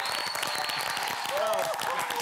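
Studio audience applause on a live Peruvian celebrity cooking show, a steady broadband wash of clapping with voices talking and calling out over it throughout.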